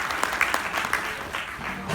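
An audience at a parenting talk breaks into applause, a short burst of scattered clapping heard alongside a speaker's voice.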